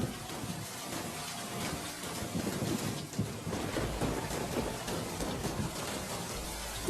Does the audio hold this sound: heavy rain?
yes